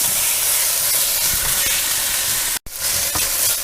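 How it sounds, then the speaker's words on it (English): Vegetables and minced garlic sizzle loudly in a pot while being stir-fried for soup, a dense steady hiss broken by one brief pause. "we've got a nice sizzle going on here, and the vegetables are starting to get a little translucent"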